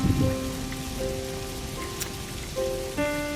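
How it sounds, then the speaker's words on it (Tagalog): Heavy rain pours steadily in Canada in a dense, continuous hiss, with faint tonal hums running underneath throughout. "grabe ang lakas ng ulan"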